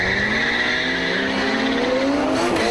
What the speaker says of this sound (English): the Supra winds up and hunts down the Bluebird, giving Brian his first defeat